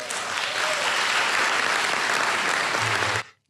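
A political audience claps for a Pennsylvania state senator: dense, steady applause from a crowd, even and sustained, cutting off abruptly at the end.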